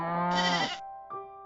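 Sheep bleat in a stable among cows: one long wavering bleat close by, then a shorter second call after a brief pause.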